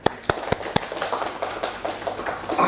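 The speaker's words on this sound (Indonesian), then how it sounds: "Kita boleh tepuk tangan." A small group claps hands, starting with a few sharp, evenly spaced claps and loosening into a scattered, overlapping patter of applause in a room.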